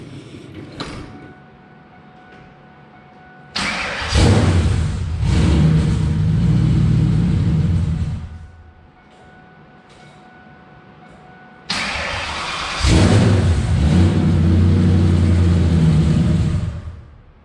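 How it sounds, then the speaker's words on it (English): A Saleen car engine, just converted to a T56 Magnum manual gearbox, cranks twice: each time a whirring starter is followed by the engine catching into a loud rumbling idle that runs for a few seconds and then cuts, with quiet gaps between. "I'm gonna try to crank this thing up and see what happens."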